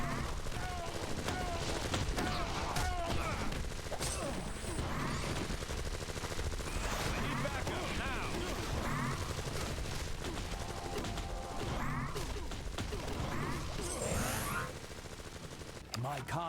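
Rapid bursts of light bullet fire in Marvel Ultimate Alliance crackle amid a busy, loud game mix of impacts and effects, with character voices talking over it.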